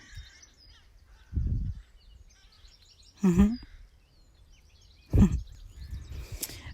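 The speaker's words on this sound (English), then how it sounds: "Hello, crows." Crows calling in summer woodland, three separate caws spaced a couple of seconds apart, moderately close and clear over a quiet background.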